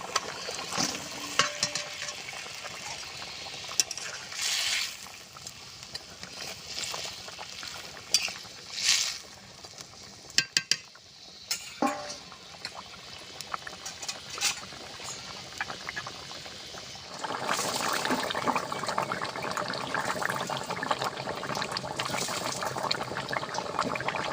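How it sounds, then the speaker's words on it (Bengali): Rohu fish curry with ridge gourd simmering in a pot, with scattered liquid splashes and pours at first, then a denser, steady bubbling hiss in the last few seconds. "ঝোলটা ফুটে গেছে ভেজে রাখা ঝিঙে আর মাছটা দিয়ে দেবো"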